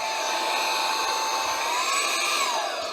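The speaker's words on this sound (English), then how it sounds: "It's actually a car vacuum, but he had bought it for his home office." A handheld car vacuum runs steadily in a home office with a loud, even whine, and its pitch shifts slightly as the motor load changes. No one speaks.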